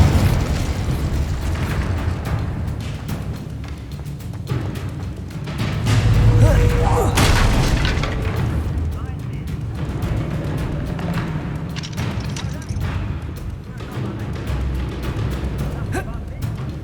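Repeated blasting-spell explosions from the Hogwarts Legacy video game, booming bursts with a heavier surge midway, over a dense backdrop of game music and effects, with voices speaking throughout.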